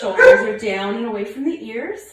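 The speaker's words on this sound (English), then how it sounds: "Sorry about my puppy barking." A small dog yips and whimpers briefly, close by, underneath a person speaking calmly.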